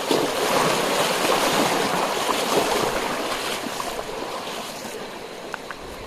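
A deep, muddy river on a hiking trail, split into two channels, rushes in a continuous loud wash that eases slightly toward the end, with no voices.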